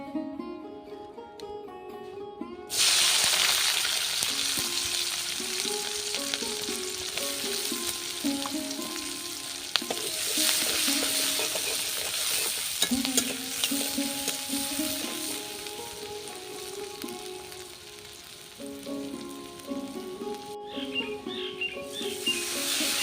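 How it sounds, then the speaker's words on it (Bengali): Fish sizzles steadily as it fries in hot oil in a pan, a dense continuous crackle with occasional stirring and soft clinks, background music running underneath throughout. "সেই জন্য মাছ ভেজে নিচ্ছি রান্না করার আগে"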